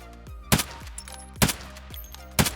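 STM-9 gun firing in the video game Escape From Tarkov, three sharp, loud single shots spaced about a second apart, each followed by a short ringing mechanical tail.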